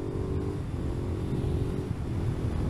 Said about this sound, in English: Yeah, this engine on the road is actually really nice.